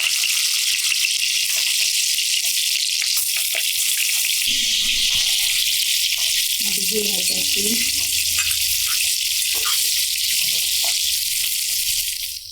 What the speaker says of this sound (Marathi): तेल तापलंय तर त्यामध्ये आधी ही परतून घेऊया